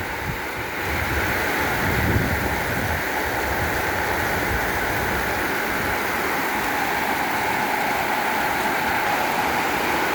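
Heavy rain pouring off a house roof and spilling over the gutters, a dense, continuous rushing splash close by, with wind buffeting the microphone.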